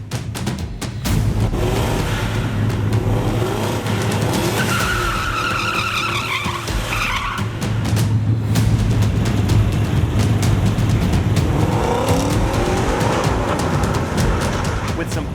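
Mustang launching down a quarter-mile drag strip, a loud continuous engine roar mixed with squealing, skidding tires, rising in pitch through the run, with the noise of the strip around it.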